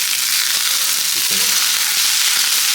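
Homemade breakfast sausages fry in a pan with a loud, continuous close-up sizzle and crackle, no voices over it.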